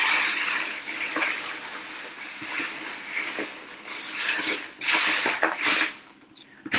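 Beads, buttons and flower-shaped buttons are stirred by hand in a rainbow sensory bin, a steady close clattering and rattling of small plastic pieces that swells into louder surges near the end.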